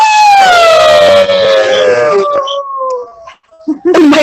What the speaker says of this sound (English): They are howling on the Zoom meeting.